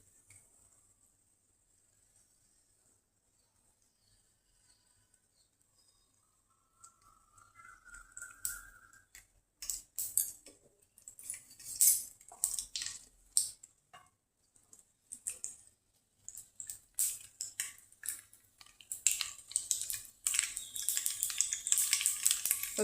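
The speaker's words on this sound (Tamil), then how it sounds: "பொரியுது பாருங்க கடுகு." Mustard seeds popping and spluttering in hot oil while tempering for an elephant yam roast, starting quiet, then a dense, irregular crackle of sharp close pops that grows busier and louder, with no talking.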